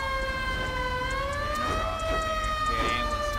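A wailing ambulance siren in the GTA 5 video game sweeps up and down steadily and loudly throughout, during a snowy winter roleplay scene, with faint background rumble and no talk.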